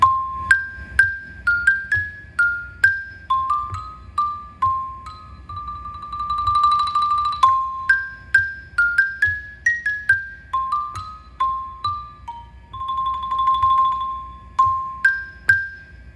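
Mallet percussion, likely a xylophone or marimba, plays a bright melodic line of evenly spaced struck notes, each ringing and decaying, with a few sustained rolls mixed in, heard alone and close.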